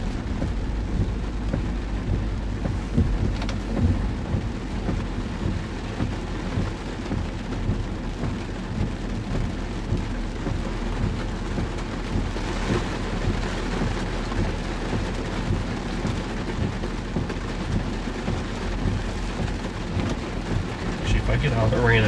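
Heavy rain and rolling thunder from a thunderstorm during a storm chase in Arkansas and Mississippi, a dense steady roar of rainfall with deep rumbles running throughout, loud and close, with faint voices in the background.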